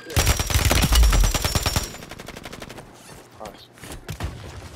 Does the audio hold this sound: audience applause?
no